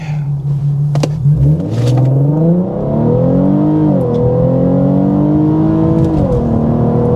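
An Infiniti Q50 with aFE drop-in filters and cats in sport mode makes a loud, continuous exhaust note on a full-throttle pull, rising steadily in pitch through the gears with brief dips at shifts, close up and alone.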